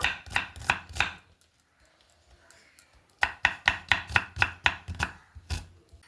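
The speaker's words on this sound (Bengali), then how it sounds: "এইভাবে আমি একেবারে ছোট ছোট করে কেটে নিচ্ছি পেঁয়াজটাকে" Knife chopping onion finely on a board, crisp rapid taps in two bursts separated by a brief quiet pause, close and clear with no talking.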